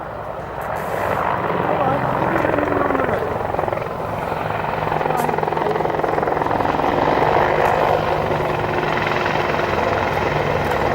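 AH-64 Apache attack helicopter flying low-level manoeuvres and pirouettes, its rotor thudding and turbine whine loud and steady throughout, swelling slightly as it turns.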